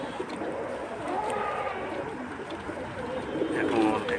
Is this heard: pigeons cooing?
yes